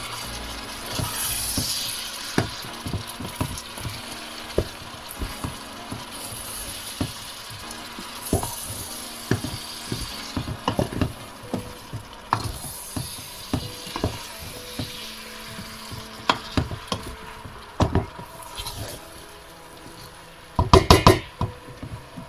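Onions and bell pepper stirred in a cooking pot for a bolognese sauce, with a soft sizzle under scattered scrapes and clinks of the utensil against the pot, sharper knocks near the end and no talk.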